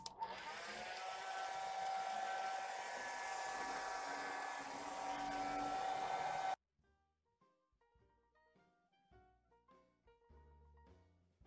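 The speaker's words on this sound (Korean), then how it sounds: "드라이기로 한번 아크릴 칠한 걸 말려보도록 하겠습니다" A hair dryer blows steadily and loudly for several seconds, drying acrylic paint on a napkin craft piece, then cuts off abruptly and soft piano-like music continues alone.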